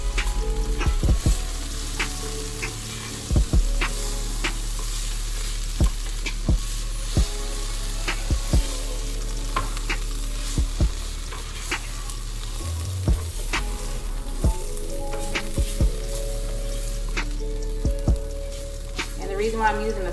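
Food frying on a non-stick griddle under a constant sizzle, with repeated sharp spatula taps and scrapes spaced irregularly across it and a low steady hum in the background.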